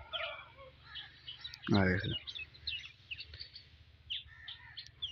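Hens, crows and mynas around a village farm plot sown with wheat make scattered chirps and one brief, loud clucking call. Someone talks over them.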